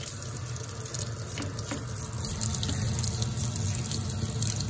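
Tap water runs steadily into a sink to rinse off soap, a close, continuous splashing rush that swells slightly toward the end, with no voices.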